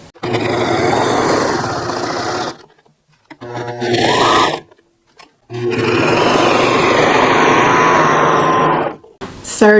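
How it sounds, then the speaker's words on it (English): A serger stitches around a fabric beanie in three loud, close bursts of rapid whirring, separated by short quiet pauses. "Serged around the beanie,"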